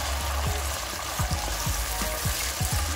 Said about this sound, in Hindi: लो फ्लेम पे हम पकने देंगे, क्योंकि प्याज इसमें हमको सॉफ्ट चाहिए